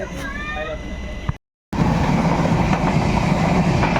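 A Mumbai-bound train rolls loudly and close past the halted Nagpur–Madgaon Express, its wheels rumbling steadily after a brief cut, with voices underneath.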